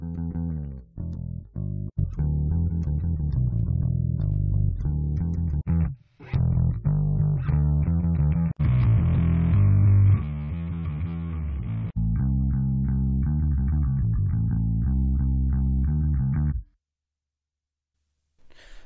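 Bass guitar tones from Guitar Gods expansion presets play one after another in Reaper, a soloed track of sustained notes and short phrases with brief gaps between tone changes, ending in silence.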